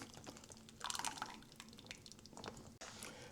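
Pork rib marinade poured into a vacuum seal bag, a quiet wet trickle and dripping, with a brief fuller pour in the middle, faint and close.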